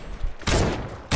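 Sniper gunshots in Fortnite: two sharp, loud close reports about half a second apart, each with a short ringing tail.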